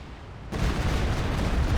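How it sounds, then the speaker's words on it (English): An artillery barrage in Company of Heroes 2 hits after a brief lull, turning into a sudden, dense roar of blasts and rumbling explosions that stays loud to the end. "Suxafus barrage running in somewhere."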